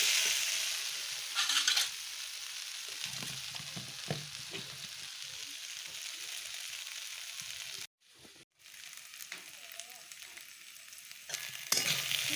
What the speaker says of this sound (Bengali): বরবটি আছে কুমড়ো পেঁপে আলু পুঁইশাক সব কিছু দিয়ে একটা সবজি করছি